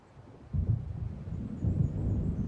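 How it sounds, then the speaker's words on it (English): A thunderstorm in Alan Wake Remastered gives a low, rolling rumble of thunder that swells twice over steady rain-like hiss, fairly faint and with no voices. "It seems there's a storm coming."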